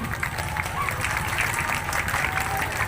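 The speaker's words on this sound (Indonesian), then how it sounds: "Sudah dilaksanakan, tepuk tangan dulu." A crowd at a kebaya parade gathering in Bongkasa Pertiwi, Bali, gives a short burst of steady applause. The clapping is dense and continuous, with murmuring voices underneath.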